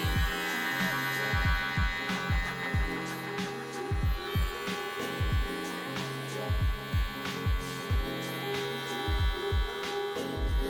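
The Mini Buddy beard trimmer runs just after its blade has been oiled, a close steady electric buzz with a mild hum and regular pulsing, heard alone with no talk.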